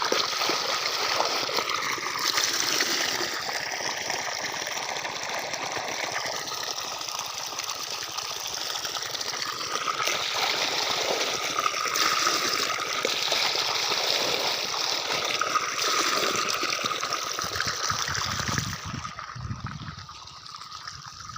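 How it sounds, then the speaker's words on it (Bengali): Muddy water is bailed out by hand, a continuous close splashing and trickling wash that runs throughout and ends with a few heavier sloshes. "এই দেখুন ছেঁচা হচ্ছে, ছেঁচা"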